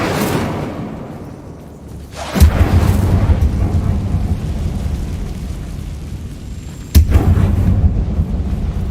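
In the video game Hogwarts Legacy, the Incendio fire spell is cast twice inside a mine, each cast a sudden loud booming whoosh that swells into a sustained roaring rumble over low ambient drone.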